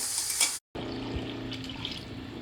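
Water pours steadily into a mixer jar, a soft continuous trickling and splashing with a brief cut partway through; no voices.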